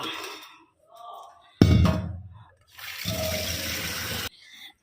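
Water is poured for making tea in a home kitchen, arriving in two splashing bursts, first short and loud, then a longer steady pour that cuts off abruptly, with quieter handling sounds between.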